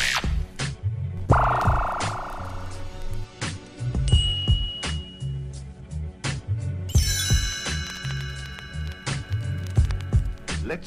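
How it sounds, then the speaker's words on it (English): A short computer-style chime cue marking a page turn on a TRON read-along record, a bright tonal ping near the middle, heard over a steady background music bed. "You will know it is time to turn the page when you hear the computer sound like this."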